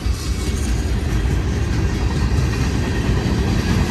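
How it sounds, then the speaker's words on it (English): A Union Pacific mixed freight train rolls past at the Cajon summit, a loud, steady, close rumble of wheels and cars with no pause. "It's truly a mixed freight train here."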